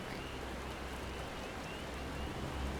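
Rain falls in the Final Fantasy XIV video game as a steady, soft hiss with a low rumble underneath, continuous and without voices.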